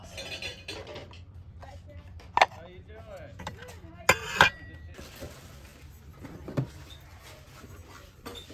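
Stoneware bowls clink against one another as they are handled at a garage sale, with a few sharp, distinct knocks among quieter rattles and soft speech nearby.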